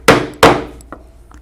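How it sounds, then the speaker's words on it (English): Two sharp, loud hammer strikes on a 1/4 inch punch going through leather, close and dry, followed by a few faint light taps. "Now we will use our 1/4 inch punch to punch for the closer holes."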